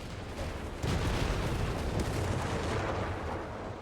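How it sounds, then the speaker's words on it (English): Artillery shells hit in a Company of Heroes 3 4v4 battle, British forces against a heavy Panther and anti-tank guns: a sudden loud, rumbling barrage of booms that rolls on continuously with dense low-end impact noise. "Artillery hitting."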